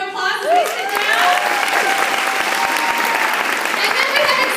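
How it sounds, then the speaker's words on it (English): A round of applause for future executives at a career event: an audience claps steadily and densely while cheers and whoops rise over it, and voices carry through the clapping. "we are going to give our future executives a round of applause as they sit down"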